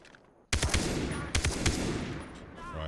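Gunfire in Far Cry 3 from a weak in-game gun, loud close bursts of rapid shots cracking in two clusters over a sustained noisy background.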